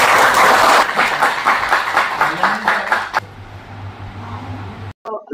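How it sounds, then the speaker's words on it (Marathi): Audience applause at a municipal ceremony, a burst of clapping that is loud at first, then thins into scattered claps before stopping, followed by quiet room noise. "पुन्हा एकदा जोरदार टाळ्या आपण"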